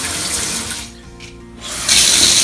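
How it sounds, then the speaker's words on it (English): A hotel bathroom shower in London runs at high pressure, a loud, steady hiss of spraying water that dips briefly as the stream shifts and then surges back at full force. "Let's have a look at the shower pressure"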